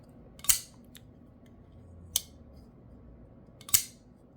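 A Kizer DLC Hawk folding knife snapping open, giving three sharp, crisp clicks spaced well apart against a quiet background, each a brief bright snap close by.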